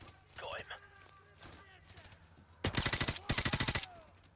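Call of Duty 4: Modern Warfare gunfire erupts as two loud rapid automatic bursts near the end, following a stretch of quieter talk and ambience.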